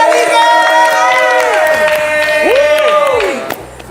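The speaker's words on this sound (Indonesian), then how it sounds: "Tepuk tangan dong sekali lagi." A live audience at an event with the cast of the film Dilan 1997 cheers and claps, with loud whoops and shouting voices over steady applause for about four seconds.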